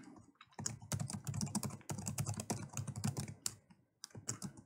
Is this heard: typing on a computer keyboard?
yes